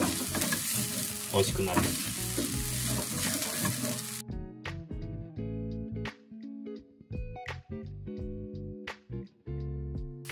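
Keema curry fries and scorches in a pan, a dense loud sizzle at first that drops to quieter crackling with scraping and stirring clatter, while a voice speaks briefly.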